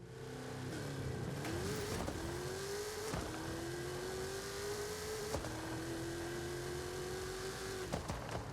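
Drag car in Forza Horizon 5 accelerating hard from a launch, its engine note rising steadily through gear changes with sharp shift breaks, loud and continuous for the whole run with no talking.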